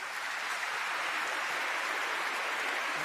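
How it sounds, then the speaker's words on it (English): An audience at a conference on EU foreign policy applauds the High Representative, a continuous, even wash of clapping from a crowd with no voices over it. "A round of applause there for the High Representative."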